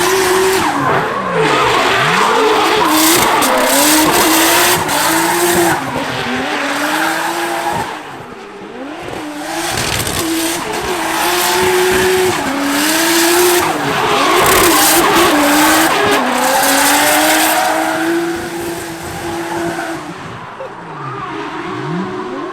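A drift car with new springs, a fresh alignment and a sway bar drifts nearby, its engine revving loudly and rising and falling as the tires squeal and skid continuously throughout.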